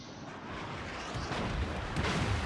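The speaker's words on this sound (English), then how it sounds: "Bismarck ate a torpedo, and that's that." A torpedo strikes the battleship Bismarck in World of Warships, producing a dense, rumbling explosion that swells and holds for a couple of seconds at moderate loudness, with no voices.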